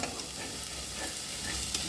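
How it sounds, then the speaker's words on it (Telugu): Drumstick masala curry frying in a pan, a close, steady sizzle broken by soft scraping stirs at intervals across a brief stretch, with no one talking. "ఇది ఇట్లా ఫ్రై అవుతుంది కదండి"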